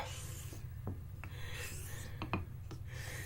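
A straight razor being honed on a 1k water stone while setting the bevel, giving a steady low wet rubbing strokes with a few faint clicks, close and continuous throughout.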